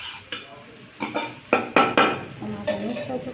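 A spoon stirs a tomato mixture for red lobia chaat in a pot, giving several separate metallic clinks and scrapes at uneven intervals over quiet background noise.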